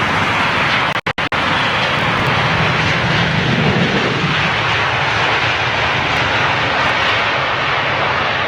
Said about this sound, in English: Air India Dreamliner